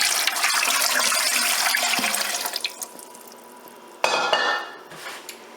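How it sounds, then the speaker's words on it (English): Water pours into a pressure canner before canning chili, a steady broadband rush that slowly fades, then a sudden louder splash of pouring that tapers off again, close and with no voices. "So I add water."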